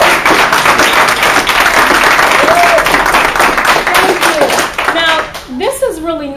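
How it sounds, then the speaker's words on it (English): An audience at a talk at Middlesex University gives a loud, close round of applause with thick, continuous clapping for about five seconds. A speaker's voice then takes over as the clapping fades. "Let's give him another round of applause."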